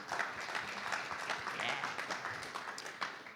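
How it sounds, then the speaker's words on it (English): An audience at a startup design conference gives a round of applause, a dense, moderately loud patter of clapping that runs throughout. "Round of applause for Scott."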